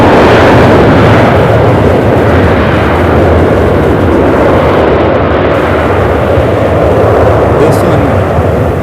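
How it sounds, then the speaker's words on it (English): Delta Airlines Airbus A321 jet arriving from Salt Lake City at Charlotte Douglas airport, a loud, continuous, close roar that holds steady throughout. "Can't miss the Delta A321."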